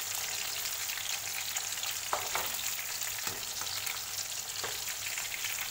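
Chicken threads frying in a pan, with a steady bright sizzle and a few soft clinks and stirs, continuous and close with no voices.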